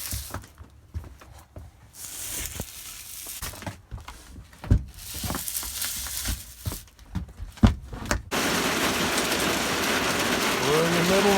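Hail hammers the metal roof of a skoolie school bus during a conversion, first as scattered hard taps and clattering bursts, then as a dense, steady roar, with voices heard between the impacts.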